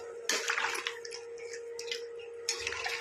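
A spoon stirs chicken biryani with water in a pot, making faint wet sloshing and squelching in a few short bursts over a low steady hum.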